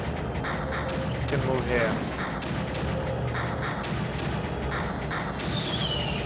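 Gunfire in the strategy video game Creeper World thuds and booms steadily in a dense, continuous layer while someone talks over it.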